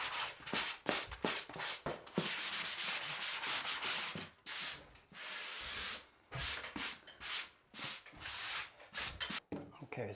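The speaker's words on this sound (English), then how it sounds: "so just lightly sand this corner." A drywall corner is lightly sanded by hand in bursts of rough scraping strokes, close and fairly loud, with brief pauses between the back-and-forth rubs.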